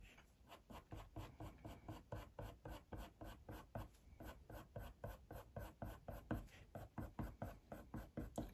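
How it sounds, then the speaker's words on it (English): Coloured pencil shading on drafting film, laid down in steady back-and-forth strokes while filling in fur on a badger drawing. The scratchy rubbing repeats in a fast, even rhythm, close and quiet, with no talking over it. "kind of shading in back and forth motions in the same direction as the fur"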